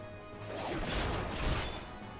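A Smashing Fang attack from Final Fantasy XIV lands as one broad, crashing whoosh-and-impact effect that swells and fades over about two seconds, with no talk.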